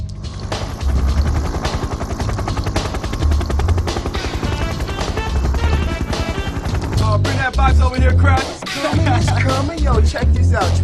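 An aircraft in trouble, flying erratic patterns and losing altitude fast, with a loud, steady rotor-like thrum amid sharp bursts resembling gunfire and booms throughout.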